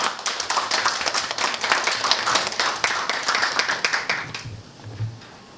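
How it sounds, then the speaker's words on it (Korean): Audience applause welcoming a university professor before a lecture at a leadership academy, close rhythmic clapping from a modest crowd that fades out after about four seconds, leaving a quiet room. "뜨거운 박수 부탁드립니다."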